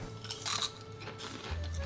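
Close crunching of crispy tofu skin (yuba) chips being bitten and chewed, a few brittle crackles over a low background rumble.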